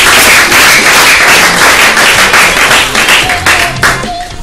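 Audience applause after a speaker at a school debate on teaching mathematics in the vernacular, a steady dense wash of clapping from a crowd, loud and continuous throughout with no talk over it.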